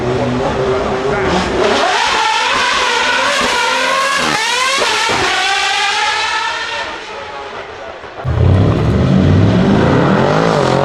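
A V12 supercar at the 2024 Goodwood Festival of Speed revs loudly and close by in rising and falling sweeps, then the engine drops away before a burst of louder roar near the end.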